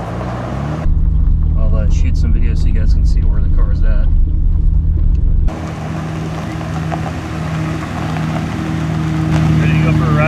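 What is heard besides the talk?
Nissan Skyline GTR driving on gravel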